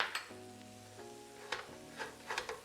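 Steak sizzles while frying in a single pan with cabbage, seasoned with salt, pepper, paprika and Italian seasoning; a soft steady sizzle runs under a few utensil scrapes and clinks, fairly quiet and close.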